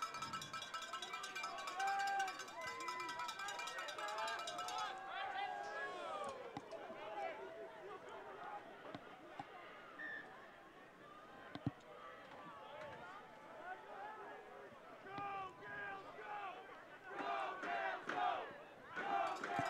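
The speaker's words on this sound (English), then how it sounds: "Queen's crowd still rowdy" A rowdy Queen's crowd at a university rugby semifinal against UBC shouts and cheers continuously, with a dense wash of voices, whoops and bursts of yelling rising and falling throughout, fairly distant.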